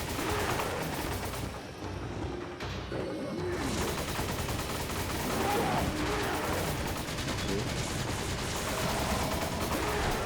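Gunfire in Resident Evil 5, a dense continuous clatter of shots and game noise filling the whole stretch, loud and busy.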